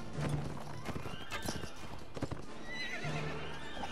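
A horse gallops and whinnies in Mount & Blade: Warband, with rapid hoof clip-clops and neighs over battle noise, close and continuous, with talk mixed in.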